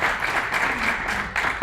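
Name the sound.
audience applause welcoming a conference speaker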